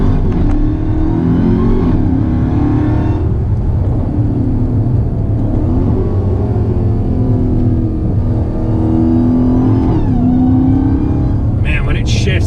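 A Dodge Hellcat accelerates loudly from close inside the cabin, its engine note rising and dipping through several quick gear shifts while people talk over it.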